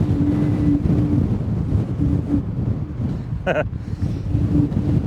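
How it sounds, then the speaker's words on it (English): Loud, constant wind roar at about 50 on the coast at Normanville, South Australia, with a thin tonal whistle coming and going, plus a brief sharp higher squeal midway; a voice speaks faintly underneath. "You can hear it whistling. That's how windy it is."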